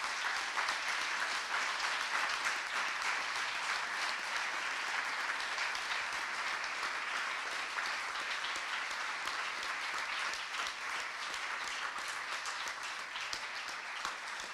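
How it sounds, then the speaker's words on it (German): A lecture audience gives warm applause for the interpreters at a talk on socialist and communist perspectives, a long, steady wash of many people clapping, fairly faint and even throughout with no talk over it. "Bitte einen herzlichen Applaus für diese Menschen."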